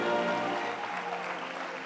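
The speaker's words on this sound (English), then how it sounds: "We can do better than that in our applause for Sakshi as she goes off stage." An audience applauds as a speaker leaves the stage at a talk event, a steady wash of clapping at moderate volume throughout.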